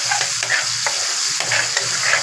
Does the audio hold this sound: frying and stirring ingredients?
yes